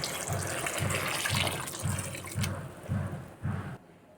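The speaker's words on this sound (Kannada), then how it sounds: "ಇದಕ್ಕೆ ಸ್ವಲ್ಪ ನೀರು ಆ್ಯಡ್ ಮಾಡ್ಕೋಬೇಕು" Water pours steadily into a pot of vegetable sambar, a continuous splashing stream with a soft pulsing bubble underneath. It ends abruptly near the finish.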